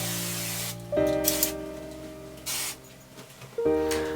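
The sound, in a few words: hairspray being sprayed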